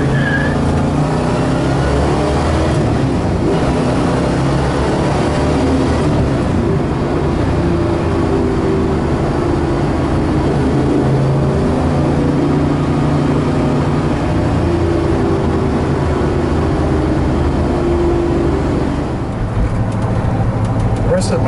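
A 1969 Pontiac GTO Judge on the road, its engine a loud, continuous low rumble heard from inside the moving car, with gentle surges in revs as it drives.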